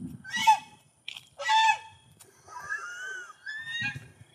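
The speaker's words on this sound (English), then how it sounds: "Geese make the most terrifying freaking sound, especially at night. It sounds like an old screen door." Geese honk at night in harsh, creaky bursts like an old screen door, several separate calls spread over a few seconds with rising and falling squawks, fairly close and loud.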